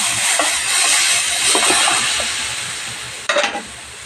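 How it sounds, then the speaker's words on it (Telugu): Tomato paste for an egg curry sizzles and hisses steadily in a hot pan, a dense, close frying sound with a brief sharper burst near the end as it is stirred. "ఈ టమాటా పేస్ట్ కూడా పచ్చివాసన పోయేంత వరకు వేగనివ్వాలి"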